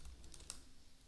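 Soft keystrokes on a computer keyboard while writing CSS code, a few quick light taps, faint and close, with no talking.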